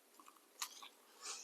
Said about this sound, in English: Ooh, you can hear the crunch.